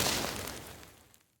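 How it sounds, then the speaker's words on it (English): A single bright, hissing burst like crackling flame, a Skyrim destruction magic fire spell sound effect, flares up loudly and then fades away over about a second. "I layer it with 2 sizzling firebursts or whooshes."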